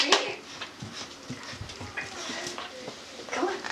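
Puppy panting and faintly whimpering during a game of fetch, with soft scuffling and small thumps of movement close by, heard alone without talk over it.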